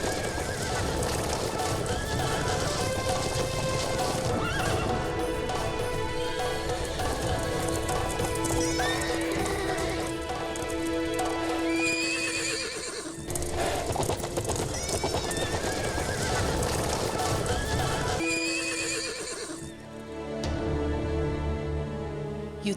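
Horse whinnies and galloping hoofbeats ring out as sound effects in a stage dance-music drama about a queen's war horse, loud and layered over a full, dense orchestral score.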